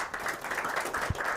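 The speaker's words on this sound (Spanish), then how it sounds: "Un aplauso, por favor, para Ernesto." Brief applause from an audience welcoming a podcast guest, a quick patter of many hands clapping at moderate volume with a single louder thump near the end.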